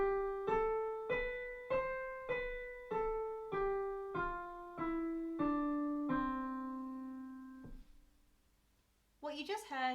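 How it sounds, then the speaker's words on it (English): Eight separate keyboard notes of an octave sound in a steady, evenly spaced sequence during a vocal warm-up, each decaying before the next, followed by a brief pause and then a short burst of talking. "What you just heard is an octave, a set of 8 notes that repeats throughout the piano or keyboard."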